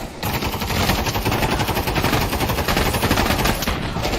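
Continuous rapid automatic gunfire rattles loudly throughout a mag dump in modded Skyrim VR, dense and unbroken for about four seconds.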